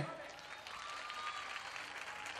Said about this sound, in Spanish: denle un fuertísimo aplauso a las escuelas artísticas municipales